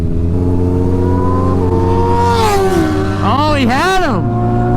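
A 340-horsepower Kawasaki Ninja H2 and a turbocharged Hayabusa racing on the street, their engines roaring loudly and sweeping past in rising and falling whines over a steady drone while a voice shouts excitedly.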